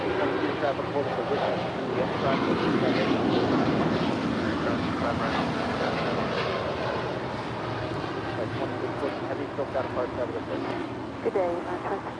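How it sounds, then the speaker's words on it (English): A United Airlines Boeing 787-10 Dreamliner departing LAX gives a broad, sustained jet roar with wind noise, continuous and fairly distant, as a voice talks over it. "This is United Airlines 2614 Heavy departing to New York Liberty on this 3-year-old 787-10 Dreamliner"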